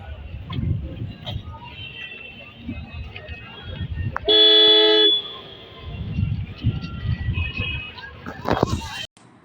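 A car horn sounds one steady, fairly loud honk lasting under a second, with a voice talking before and after it and general street hubbub in the background.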